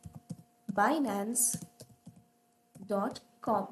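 Soft, quick key clicks on a computer keyboard as a web address is typed into a browser search bar, heard in a pause between stretches of someone speaking close by.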